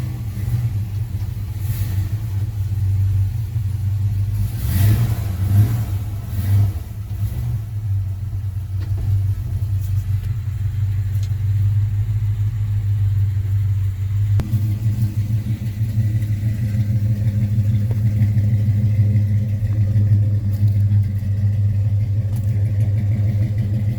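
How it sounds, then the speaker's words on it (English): A Chevy C10 pickup truck's engine idles steadily in a deep, continuous rumble, with a few quick revs early on before settling back to a slightly fast idle, close and loud throughout. "It's idling just a little faster than I like, especially when it gets warmed up."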